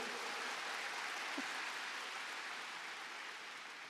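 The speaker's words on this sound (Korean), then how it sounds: "박수 한번 쳐주시죠." A large crowd at the 2017 Amway Spring Convention keeps up a steady wash of applause that sounds like rushing rain. The clapping is even and continuous throughout, easing off only slightly toward the end.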